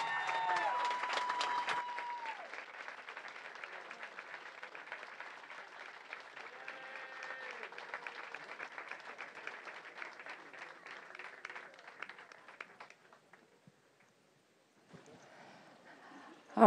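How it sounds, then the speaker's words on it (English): An audience at a remembrance event gives a long round of applause for a guest, steady crowd clapping that gradually thins and fades, then a brief quieter stretch at the end. "All right, a big round of applause."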